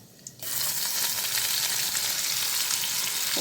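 Onion paste tipped into hot oil for a chicken ball gravy erupts into a loud, steady sizzle after a brief quiet moment, the frying continuing close and unbroken.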